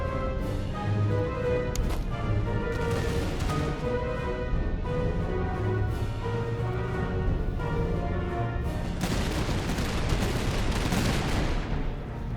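Massed musket volleys from a Prussian campaign battle in the Master of Command strategy video game. Repeated crackling shots and booms roll continuously over layered background music.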